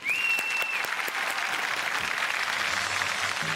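An audience applauds a folk revival group on a Marathi music competition stage, steady sustained clapping from a large crowd, with a brief whistle at the start.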